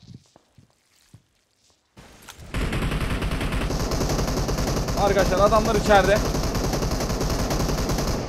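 After a few quiet seconds with brief speech, rapid continuous gunfire from the game PUBG Mobile erupts and keeps going loudly, with a voice calling out in the middle of it.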